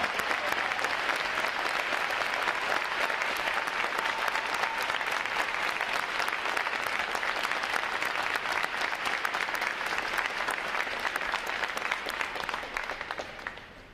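A large audience at a Navy recruit training graduation applauds its standing veterans, sustained, even clapping from a big crowd that carries on for a long stretch before gradually tapering off at the end.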